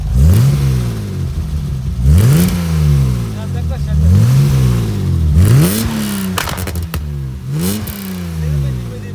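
A BMW E30 325i engine revs hard about five times, each blip rising sharply and falling back to a lumpy idle. The sound is loud and close, with a brief clatter partway through.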